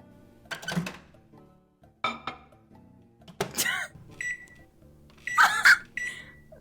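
A person vocally imitates microwave oven noises with a string of short beeps, hums and thunks broken by pauses.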